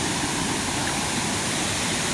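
Floodwater surging down from the mountain during a typhoon, a loud, unbroken rushing roar of fast current that fills the whole clip with no breaks.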